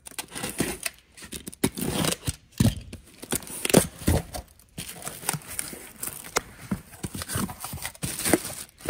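Cardboard box being handled and ripped open while sorting a truckload of paper products, giving bursts of tearing, scraping and crinkling that come close and fairly loud, with short pauses between them.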